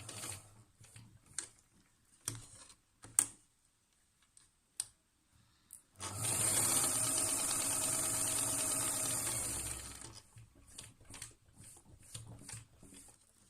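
A sewing machine stitches a seam joining the edges of a fabric mask with a 6mm foot, running in one steady whirring burst of about four seconds between scattered soft clicks and handling taps.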